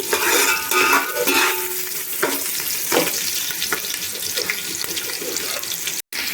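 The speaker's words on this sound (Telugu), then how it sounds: "ఆనియన్స్ వేసుకోవాలి జీలకర్ర మంచిగా వేగాలండి" Onions and cumin seeds fry in a pan for a paneer biryani, giving a steady close sizzle with scraping stir strokes and a few watery clatters, briefly cut off near the end.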